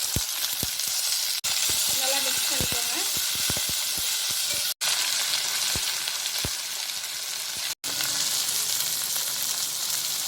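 Onion, mint, curry leaves and vallarai greens frying in a pan for thuvaiyal, a steady dense sizzle close by with scattered pops and stirring knocks, cut by a few brief dropouts.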